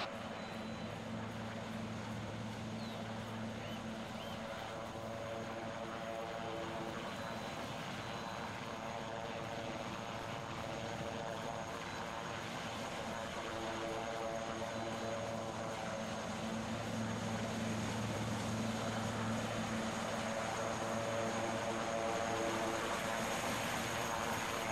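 A helicopter in the military game Arma 3 drones steadily at moderate distance, its rotor and engine hum holding level and unbroken with no talk over it.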